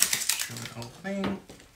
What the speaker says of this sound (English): I'm just gonna add the whole onion into the pot